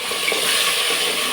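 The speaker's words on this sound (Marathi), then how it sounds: "आणि याला छान असं भाजून घ्यायचं आपल्याला आलं लसूण पेस्ट." Ginger garlic paste frying in a pan, a steady, dense close-up sizzle with no pauses over a brief moment.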